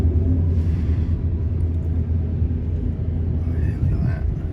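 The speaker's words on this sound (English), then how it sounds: "It's a funky old train." A heavy Mauritanian iron ore train rolls past, a continuous low rumble with grinding undertones heard close by, while people talk over it.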